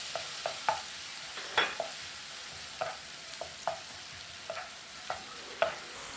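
Minced garlic and chili stir-fried in hot oil in a clean wok, a steady sizzle broken by a dozen or so sharp scraping stirs of the spatula, close and clear with no voices.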